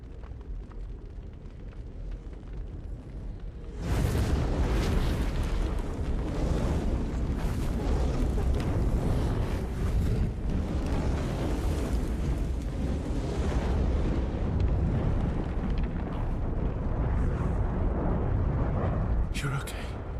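Fire roaring in the video game Clair Obscur: Expedition 33, a dense rumbling blaze that swells in loudly after a few seconds of quiet and keeps churning, with a voice talking over it.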